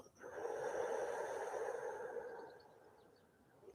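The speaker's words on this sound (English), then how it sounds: "and breathing out" A slow exhale during yoga practice, a soft, steady breath of air lasting a few seconds and fading gently at the end, heard alone and close without any voices.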